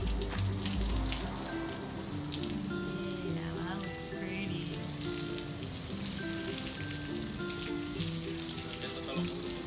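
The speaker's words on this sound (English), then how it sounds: "And now we're gonna rinse it off." Water splashing and rinsing soap off a peacock wicker chair during restoration, a steady hissing spray with patter and dribbles throughout, fairly close.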